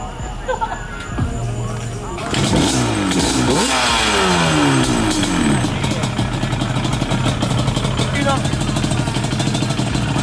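A Yamaha Banshee motorcycle engine runs loud and close, climbing into sustained revving with rising and falling pitch sweeps after a rougher idle, with background crowd noise.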